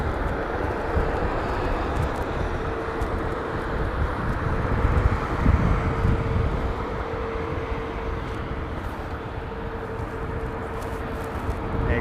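An Airbus A350 jet airliner on approach produces a steady, broad engine roar with a faint whine, constant and moderately distant, mixed with wind noise.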